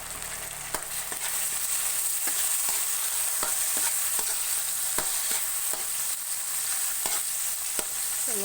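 Papaya sautés in a hot pan with a continuous bright sizzle, punctuated by regular scraping clicks of a utensil stirring through the pieces, close and clear with no talk.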